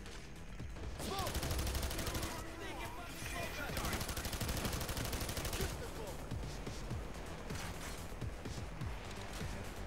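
LMG gunfire in the shooter game Payday 2, with rapid bursts of automatic fire, mechanical clatter and reload sounds during a heist, fairly loud and close, with voices talking over it.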